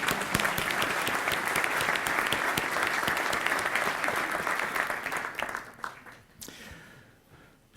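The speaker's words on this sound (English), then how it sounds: "So let's give them applause." Audience at a tech event applauding, dense sustained clapping that holds steady for several seconds, then thins out and fades to scattered claps.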